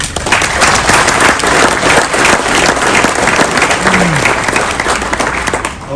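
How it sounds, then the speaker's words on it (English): An audience applauds association staff with loud, sustained clapping that stays even from start to finish and fades slightly at the end. "all local HBA staff deserves a round of applause"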